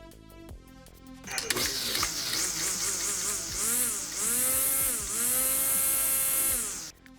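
Homelite 4 amp electric string trimmer kicks on with a high, buzzing electric motor whine that rises and dips in pitch several times, running loud and close for about five seconds before cutting off abruptly.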